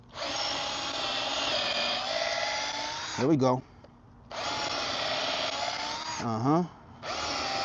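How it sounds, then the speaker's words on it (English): A power drill bores holes into wooden deck stairs in two long, steady whining runs, each ending with the motor winding down and briefly revving before starting again, close and loud while someone speaks briefly. "let's drill these holes"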